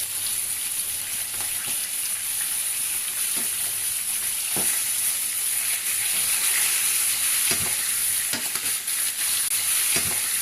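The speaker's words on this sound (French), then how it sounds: "Je mets les morceaux de gingembre dans l'huile." Pieces of ginger sizzle in hot oil, a loud and steady close frying hiss with occasional sharp pops and stirring clicks, heard alone.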